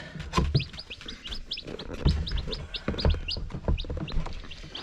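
Newly hatched baby chicks chirping close by on a paper-lined floor, a busy run of high, rapid peeps repeating over soft scratching and pecking sounds.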